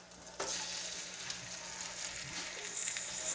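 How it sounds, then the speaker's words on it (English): Rabbit back straps and legs frying in a pot as the base for gumbo give a steady, close sizzle with a soft crackle, running alone without any talk. "Frying up real nice."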